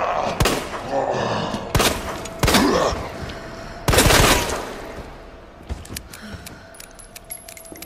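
Loud, close gunshots from Resident Evil 2, four heavy blasts spaced a second or so apart, each with a short echoing tail, followed by quieter clicks and metallic rattles.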